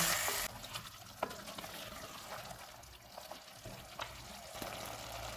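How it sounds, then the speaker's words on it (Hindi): Mutton frying over a medium flame with onion and ginger-garlic paste in a handi, giving a steady, fairly faint sizzle with light stirring clicks and scrapes throughout. "1 किलो मटन डालेंगे। चूल्हे को मीडियम रखेंगे, इसको 4 से 5 मिनट तक भूनेंगे।"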